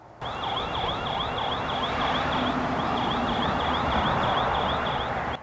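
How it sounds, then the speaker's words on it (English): A security camera's siren alarm wails loudly and continuously in a rapid, repeating up-and-down electronic pattern, steady and unbroken from start to finish. "there's this siren mode. And this does give me a warning that this is going to annoy the neighbors"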